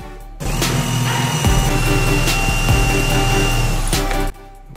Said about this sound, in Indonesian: Sebelum dipaku kita bor biar nggak pecah.